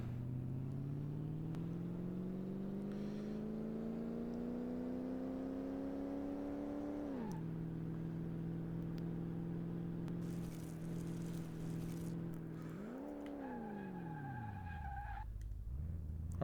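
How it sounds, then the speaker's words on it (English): Car brake test in Car Mechanic Simulator VR: a steady engine whine rising in pitch, dropping abruptly, holding, then surging and falling away as the car slows, with faint tire squeal toward the end. "Now we do the brakes test."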